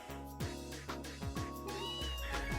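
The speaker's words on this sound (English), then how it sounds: "A cat?" A cat meows in the video game Trails in the Sky: several short, rising mews in a row, set over quiet sustained background music.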